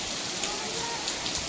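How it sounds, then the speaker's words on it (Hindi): Steady rain pours down outside in a village, a dense, continuous hiss of drops with no pauses throughout. "बाहर हो रही है बारिश"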